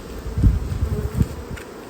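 Buckfast honey bees crawling on heavy, nectar-filled hive frames, a low close buzzing hum that swells and fades in uneven pulses, alone without talk.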